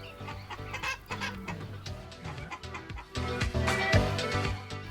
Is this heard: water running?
no